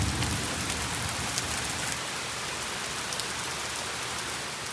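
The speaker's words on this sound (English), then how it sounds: "I don't know where that rain came from." Steady rain falls alone, a dense, even hiss of drops on surfaces that holds at constant loudness from start to finish.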